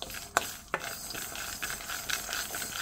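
Spices roasting in a pan and being stirred, with a steady faint sizzle and two sharp scraping knocks from the spoon early on, then softer stirring scrapes.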